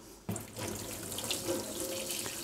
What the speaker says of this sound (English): And I'll now try a bit of boiling water.